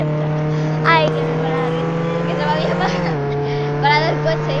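Car engine drones steadily in the Roblox Jailbreak video game, holding a constant pitch that dips once partway through, while someone talks excitedly over it.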